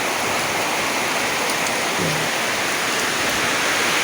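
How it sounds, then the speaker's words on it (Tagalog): Heavy rain pours down in a storm-like downpour, a dense, steady roar of water that stays loud and unbroken throughout, with no voices. "Pero hindi ako makalabas kasi ang lakas ng ulan."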